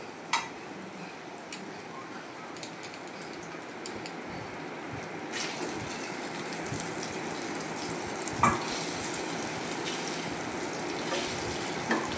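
Bitter gourd frying in ghee in a pan, a steady soft sizzle throughout with a few light ticks and clinks from stirring, growing slightly louder in the second half, no talking.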